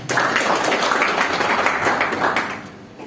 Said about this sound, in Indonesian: Yang enggak tepuk tangan, beri kemuliaan untuk Tuhan Yesus ya